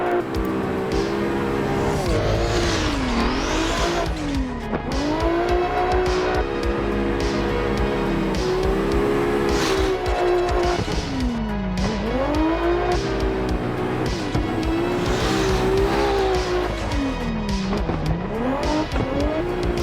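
Drift car in the Assetto Corsa racing sim, a Team NoVibe drift pack car, engine revving and bouncing through repeated rise-and-fall sweeps with steady tire squeal, loud and continuous for the whole stretch.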